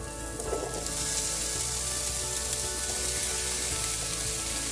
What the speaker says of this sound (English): So we're going to start by frying our potatoes